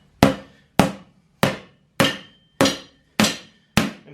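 Seven sharp, evenly spaced hammer blows strike a go-kart tire on its rim, each a loud close impact with a short ringing decay and nothing else around.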